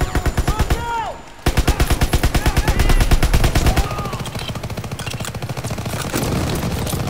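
Sustained machine gun fire in Call of Duty WWII's D-Day mission, loud rhythmic rapid bursts hammering on with brief pauses, explosions and game effects mixed in.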